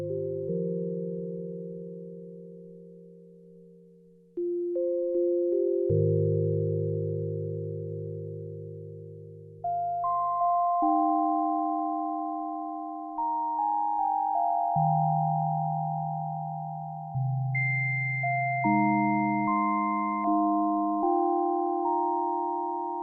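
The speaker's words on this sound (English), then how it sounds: "just using a sine wave on oscillator 1, just with some release" A UDO Super 6 analog-hybrid synthesizer plays a slow sequence of pure sine-wave tones from oscillator 1, sustained notes each decaying gently with a soft release, clean and alone.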